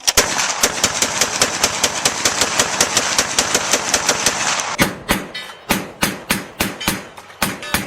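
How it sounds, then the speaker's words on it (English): A Gatling gun, the hand-cranked multi-barrel rapid-fire weapon patented in 1861, fires a fast, even string of loud shots, then slows into a sparser run of separate heavy reports, close and alone. "The Gatling gun, patented by Richard Gatling in 1861, was the first practical rapid-fire weapon in history."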